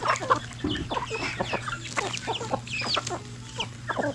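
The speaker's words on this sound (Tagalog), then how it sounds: "Dami na palang mga manok ni Tatay Rayot oh." Farm chickens cluck and call in quick, irregular bursts, with several birds close by amid a steady low hum in the background.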